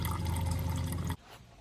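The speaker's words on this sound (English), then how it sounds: "So as the coolant is getting drained right now in the pan" Engine coolant draining from a Toyota radiator petcock valve into a pan, a steady splashing trickle of liquid that stops abruptly after about a second, leaving near silence.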